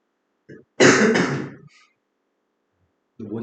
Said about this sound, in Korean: 왜 기침하냐?